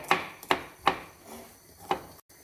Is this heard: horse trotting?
no